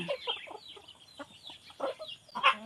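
Chicks and chickens clucking close by, a string of short, uneven clucks and peeps in bursts with brief gaps, the last call louder and sharper than the rest.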